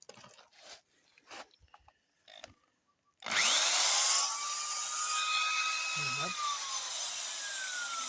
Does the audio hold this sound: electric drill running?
yes